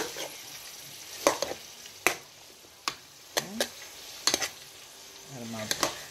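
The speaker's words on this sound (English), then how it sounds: "Add my broccoli to the mix." Steamed broccoli florets go into a hot pan with honey butter chicken, setting off a steady sizzle broken by several sharp clacks and scrapes of stirring, close and fairly loud, with no voices.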